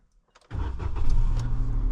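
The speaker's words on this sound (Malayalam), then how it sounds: "ജസ്റ്റ് ഇവിടെ നിന്ന് വണ്ടി ഒന്ന് പുറത്തേക്കാക്കട്ടെ" A car engine cranks and catches, then revs up into a steady, close running hum as the vehicle is pulled out, with no talking over it.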